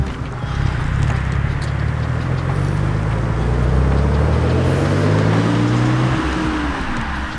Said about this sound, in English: you can't go wrong with the sound of a turbo engine